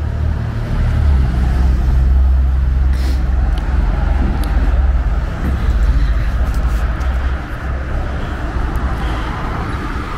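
Busy night traffic rolls along Center Street in Kingsport, Tennessee, as a steady, loud roar of passing cars and engines, heard close by and without pause.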